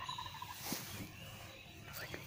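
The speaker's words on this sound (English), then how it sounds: "Turkeys, guys." Wild turkeys gobbling on a hill, faint and distant, with a brief warbling gobble rising over quiet outdoor background noise.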